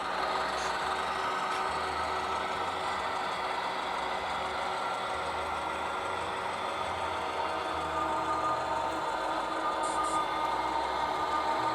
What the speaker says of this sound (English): Now there, you hear the beginning of the dynamic brake application. Isn't that a cool sound?